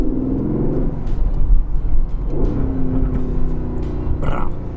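An Aston Martin V8 Vantage sports car engine rumbles loudly and steadily close by, with a few sharp crackling pops near the end.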